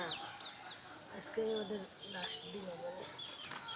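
A large village rooster weighing nearly a kilogram, heard in clucks and short crowing calls among other chirping fowl, with people talking nearby over the birds.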